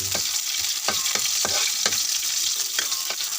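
Garlic fries in a little oil in a pan, a loud close sizzle with regular stirring scrapes every half second or so and no talk.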